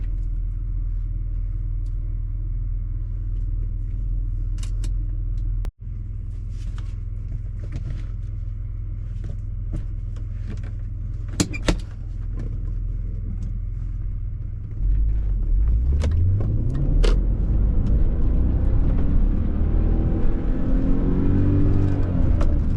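A 2002 BMW E39 M5's V8 idles with a steady low rumble, a brief click cuts through, then the engine revs and pulls away, rising in pitch as it accelerates through the gears close up.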